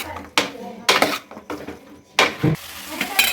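Manchurian balls stirred into sauce in a pan, a spoon scraping and knocking the metal in a few loud, irregular strokes with quiet gaps between.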